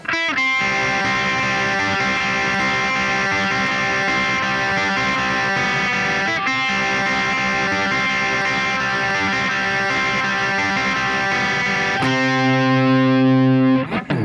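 A distorted electric guitar plays an intro riff slowly, individually picked notes, sustained and heavily effected, ending on a ringing held chord.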